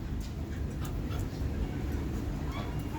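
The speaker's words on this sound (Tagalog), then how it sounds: "Narinig niyo po nagkakagulo yung mga aso sa labas." Several dogs raise a commotion outdoors, with scattered barks, yips and whimpers over a steady, noisy background, moderately distant.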